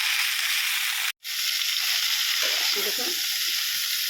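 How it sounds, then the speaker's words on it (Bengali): Cauliflower pieces fry in hot oil for a home-style fulkopi tarkari, giving a steady loud hiss that cuts out for a moment, then resumes with softer stirring noises. A voice speaks briefly. "ভাজা হলে দেখতে পাবেন কতটা লাল হয়েছে।"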